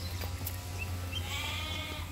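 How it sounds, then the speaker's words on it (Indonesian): A Czech goat at a mini zoo gives a faint, brief bleat against quiet outdoor background noise. "Ini kambing Ceko."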